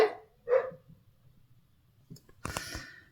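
A dog, a female, gives two short barks close by, then a pause with faint clicking and a brief rustling clatter, heard at a modest level with no talk.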